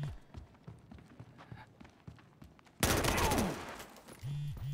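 Gunfire from the video game Battlefield Hardline: scattered shots and footsteps give way to a loud, dense burst of rapid automatic fire, with someone talking over parts of it.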